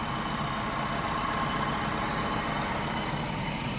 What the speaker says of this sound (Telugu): చాలా సైలెంట్ ఉంది ఇంజన్.